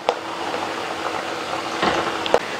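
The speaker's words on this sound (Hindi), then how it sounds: "बहुत ज़्यादा हाई फ्लेम पे इसको फ्राई नहीं करेंगे, मीडियम फ्लेम पे ही फ्राई करेंगे इसको" Shakkarpara, small pieces of dough, frying in hot oil on a medium flame: a steady, close bubbling sizzle with a few soft clicks and pops.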